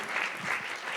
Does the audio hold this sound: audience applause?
yes